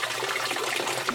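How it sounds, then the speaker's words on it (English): Water spills into the internal overflow of a 180-gallon glass coral reef tank as it fills, giving a soft, continuous trickle and splash that stays fairly quiet throughout. "as the tank fills up, Here's that water going over. it begins to spill into the internal overflow"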